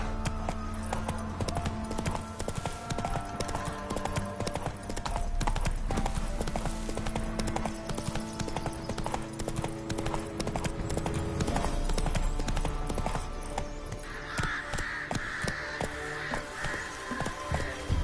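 Roach, the horse from The Witcher 3, gallops with fast, rhythmic hooves pounding continuously up close, loud and steady, with faint bird caws and ambient game sound behind.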